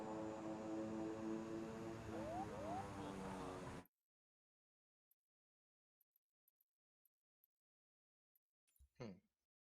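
A Flight Simulator 2020 airplane engine drones loudly and steadily in flight for nearly four seconds, then cuts off abruptly, leaving near silence broken by faint clicks and a brief burst of sound.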